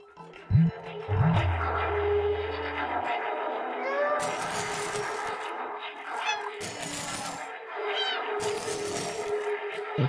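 A man imitates a cat with a series of drawn-out meows, repeated several times over game sounds in the Stray video game, with a low rumble at the start.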